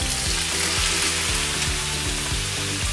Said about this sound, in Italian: Ora che l'olio è caldo andiamo a mettere le patate.